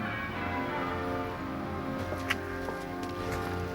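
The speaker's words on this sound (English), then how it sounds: "The bells have stopped ringing." Church bells ringing on Christmas morning at a village where an old Moravian custom is being revived, a steady sustained tolling wash of tones with a faint sharp knock partway through, no talk over it.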